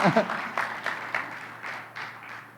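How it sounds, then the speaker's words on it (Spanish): Members of a church congregation clap in praise, a moderate burst of applause that gradually thins and fades out. "denle un aplauso al Señor"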